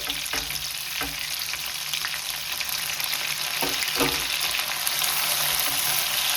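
Onions and tomato fry in a pan with a steady, close sizzle, broken by a few scraping stirs.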